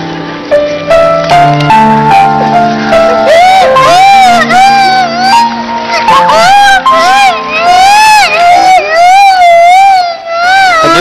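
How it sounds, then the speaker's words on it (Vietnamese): A police car siren wails loudly and close, its pitch sweeping up and down in repeated cycles, starting from a lower stepped tone before settling into fast rising and falling whoops. "Con nghe tiếng còi hú, đi đi. Xe công an."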